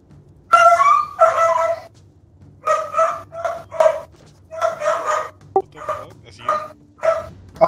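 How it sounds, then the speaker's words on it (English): Neighbor's dog barking and yipping in short bursts, fairly close and loud, with whimpering sounds between the barks and a brief sharp click near the middle. "That's our dog, I think."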